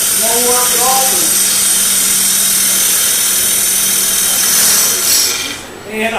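A woodturning gouge cutting on a lathe gives a loud, continuous high-pitched hiss and whine. Someone talks over it at the start, and the cut tapers off near the end.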